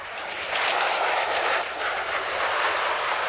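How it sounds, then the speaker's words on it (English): A US Marine MV-22 Osprey tiltrotor, from squadron VMM-266, makes a high-speed flying pass at an air show, its broad roaring rotor-and-engine noise loud and steady throughout with no talk. "Watch now as our Osprey comes in from the right in a high-speed pass."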